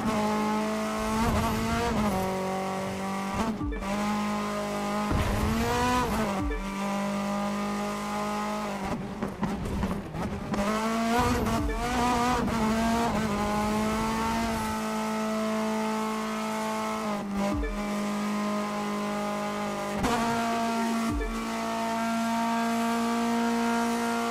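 A race car in The Crew 2 video game drives under a steady engine drone, with repeated tire squeals and skids as it slides through turns over about twenty-four seconds, with no talking.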